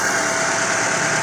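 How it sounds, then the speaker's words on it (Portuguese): A 2010 Chevrolet Celta Spirit engine idles smoothly and steadily, a close, even mechanical hum with a light whirring tone and no voices. "O motor tá no ponto, ó. Motor paradinho"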